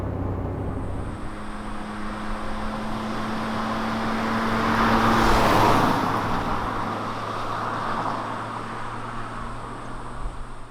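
A 2021 Kia Picanto driving on a road, with a steady engine drone and tyre roar that swells to a peak midway and eases off again, including a constant whine throughout.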